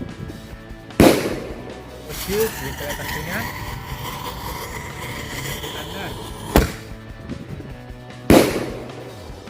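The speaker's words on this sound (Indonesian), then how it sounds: "yang selanjutnya kita nyalain mercon Happy Thunder" Happy Thunder firecrackers exploding outdoors: three loud, sharp bangs spaced a few seconds apart, with a fizzing hiss between them and someone speaking briefly before the first blast.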